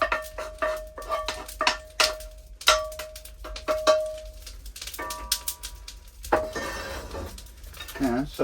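Pots and utensils clank and scrape as boiled onion and leek go into a pot of broth on a woodstove at a camp kitchen, with sharp metallic clinks and a ringing tone, then pouring and stirring noises near and fairly loud.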